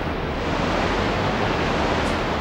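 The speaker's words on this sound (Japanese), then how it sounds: "ここで波乗りだ。" Surf attack from Pokémon Stadium 2, a short, loud rush of wave-like noise that holds steady for a couple of seconds with no voice over it.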